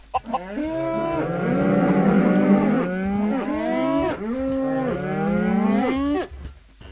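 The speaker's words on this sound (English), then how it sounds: "Cows sound different, I think." A cow in Minecraft with the Sphax PureBDcraft sound pack gives a series of loud, drawn-out moos in quick succession, each with a gliding, wavering tone and no other sounds around them.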